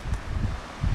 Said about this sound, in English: Whew, windy. Storm is moving in after all